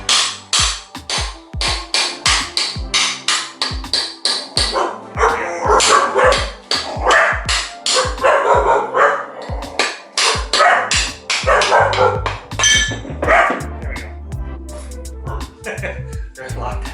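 Several pet dogs, locked outside, bark and yip in rapid, loud bursts close by, keeping up an almost unbroken volley of barks with brief whimpering gaps.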